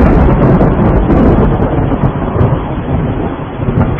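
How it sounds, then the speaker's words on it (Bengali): Heavy rain and deep rumbling thunder from a storm sound effect in a Bengali suspense radio drama, a loud continuous roar that fills the scene with no voices. "শুধু যে বৃষ্টি তা নয়, সেই সঙ্গে ঘড়ঘড় করে বাজ পড়ার শব্দ।"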